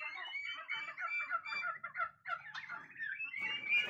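A sick turkey gobbles repeatedly at close range, rapid warbling calls running almost continuously with brief pauses, loud and clear with no talking.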